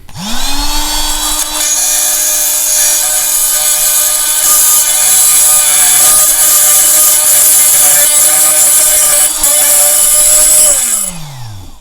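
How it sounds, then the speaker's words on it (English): A Fein multi tool fitted with a Milwaukee blade cuts through a screw, a loud, steady high-pitched buzzing whine with harsh metallic rasp that holds for about ten seconds, then winds down at the end. "now I'm going to just cut through this screw and see how long it takes"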